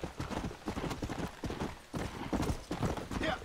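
Rhythmic clip-clop of horse hooves at a steady trot in the video game Red Dead Redemption, fairly close, with some background noise and no clear talking.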